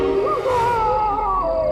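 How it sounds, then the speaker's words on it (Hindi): A long, wavering high-pitched wail drifts and slides downward over a low rumbling background, eerie and sustained for under two seconds. "एक आत्मा की चीख है।"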